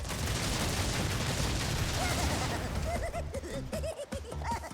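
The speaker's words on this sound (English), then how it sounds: "he's going to start running around detonating these TNT boxes" Repeated bursts from TNT boxes detonating in Crash Bandicoot 2: Cortex Strikes Back, a dense run of game explosion pops over busy game music, thinning toward the end.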